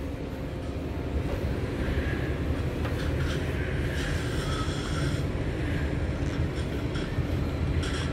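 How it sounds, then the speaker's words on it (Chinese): A model steam train runs on a model railway display at a railway museum in Kaohsiung's Hamasen area, producing a steady rolling rumble that continues under the ambient noise of the hall. "这边比较主要是蒸汽火车"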